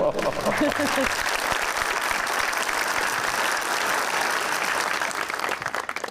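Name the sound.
audience applause in TV studio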